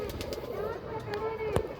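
Punjabi pigeons coo softly and repeatedly in a low, throaty murmur, with background voices and a sharp click near the end.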